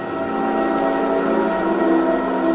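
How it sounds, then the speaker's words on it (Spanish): Heavy rain falls in a steady, dense hiss during an ancient Roman battle scene, loud and continuous without pause. "La lluvia les arrebataba las armas."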